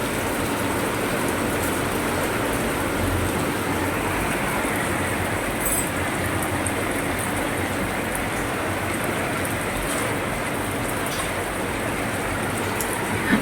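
Heavy monsoon rain pours steadily over a poor household's roof and yard, a dense, unbroken hiss that stays loud and even throughout with no voices.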